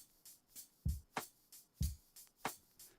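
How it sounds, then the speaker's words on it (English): An old break beat drum loop with punchy low kicks and crisp snare and hi-hat hits in a steady groove, played quietly with no voices. "This was the original drum."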